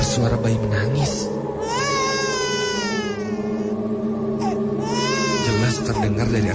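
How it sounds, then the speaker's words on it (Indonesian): A baby cries loudly and close by in a hotel lift, wailing in long rising and falling bursts with short breaths between them, the crying continuing without pause across the stretch. "terdengar suara bayi menangis."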